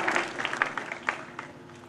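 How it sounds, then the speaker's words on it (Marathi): An audience at a school prize-distribution ceremony claps loudly in a brief burst of applause that starts strong and gradually thins out. "पुन्हा एकदा वाढू जोरदार टाळ्या आपण वाजवूया"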